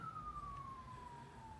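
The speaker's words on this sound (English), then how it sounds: "as the sirens are going off in the background," An emergency vehicle siren wails in the distance, a single faint, steady tone slowly falling in pitch over low traffic rumble, with no talk.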